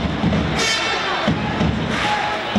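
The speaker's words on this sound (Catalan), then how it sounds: "Aplaudiments d'ànim de l'Olímpic de Vic per al seu capità, per Titi Roca" Home supporters of Olímpic de Vic at a roller hockey match applaud to encourage their captain Titi Roca, a broad crowd clapping and cheering that rises and falls in waves across the arena.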